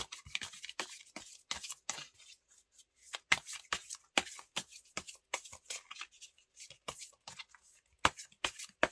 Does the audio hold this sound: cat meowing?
no